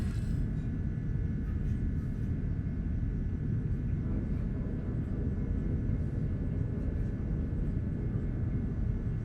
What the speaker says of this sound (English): All systems are go for liftoff.